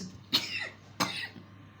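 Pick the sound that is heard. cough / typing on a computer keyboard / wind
cough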